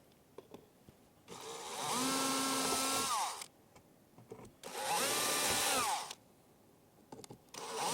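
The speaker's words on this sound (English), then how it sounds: "We'll take our 3/16 drill bit" A power drill fitted with a 3/16 bit bores holes through a drilling template in two loud, sustained whirring bursts, each about two seconds long, with quiet handling clicks between them.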